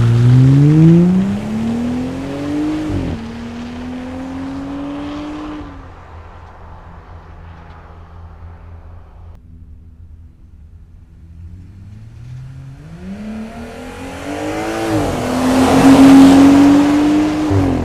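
A Jeep Gladiator fitted with a Magnaflow Rock Crawler exhaust revs, rising to a loud climb, settling into a low burbling idle, then revving up again strongly near the end, with no talk.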